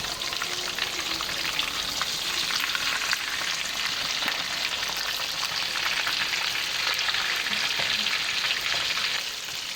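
Mutton chapli kababs fry in a pan over a low flame, a constant close crackling sizzle with fine spattering pops that never lets up.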